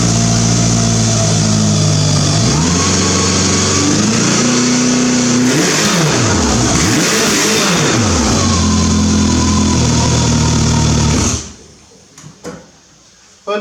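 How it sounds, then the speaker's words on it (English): The engine of a W.A.R. Corsair replica aircraft runs loud and close through its wrapped muffler exhaust, with the pitch rising and falling as it revs. It then cuts off abruptly near the end, leaving a few faint knocks. "Let me go ahead and start this back up real quick also, so you can hear the exhaust."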